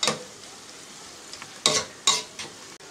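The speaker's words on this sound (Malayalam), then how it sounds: "പച്ചമുളക് ഒന്ന് വാടി വരുന്ന വരെ നമുക്കൊന്ന് ഇത് ഇളക്കി കൊടുക്കാം" Green chillies being stirred in a frying pan for a Kerala-style beef curry, with a low steady sizzle broken by a few sharp scraping stir strokes near the end.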